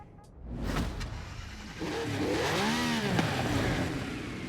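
A Porsche 917 race car in Forza Horizon 5 revs and accelerates, its engine note climbing in sweeping pitch arcs, loud and continuous with the roar building steadily through the run.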